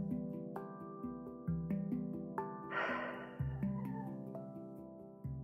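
A single deep breath taken during a gentle guided yoga stretch, heard as one soft, airy rush midway through, set against steady, sustained background music.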